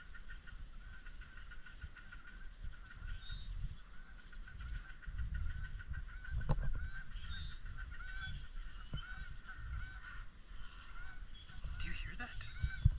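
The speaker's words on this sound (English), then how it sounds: "I'm hearing a lot of bird noises" Geese honking on Arcadia Island, repeated loud calls over a low rumble, with occasional voices in the background.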